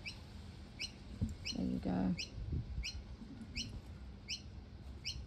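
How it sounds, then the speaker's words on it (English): Noisy miner birds call in a series of sharp, high chirps repeating roughly every half second, fairly close, with a brief spoken phrase and some handling noise midway. "Oh, the birds. There's our little miners, I think."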